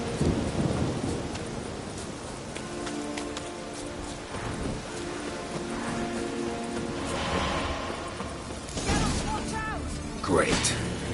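A thunderstorm in the video game Witcher 3, with steady rain hiss and rolling thunder swelling near the end, heard under game music and occasional talk.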